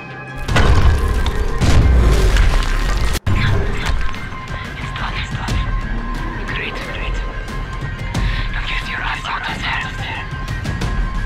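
A planted bomb detonating in Dying Light: heavy booming crashes near the start, a sharp cut, then scattered thuds and clatter, with a person talking over much of it.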